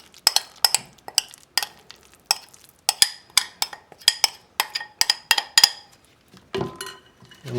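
Cucumber kimchi mixture stirred in a bowl, a steady run of sharp clinks and wet scrapes from a utensil against the bowl, close and rhythmic, ending in softer squelching of the mixed vegetables.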